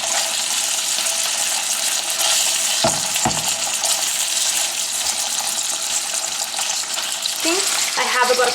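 Scallops sizzle loudly in a pan of oil and garlic, a constant bright frying hiss with a couple of clinks and stirring scrapes partway through and no talk.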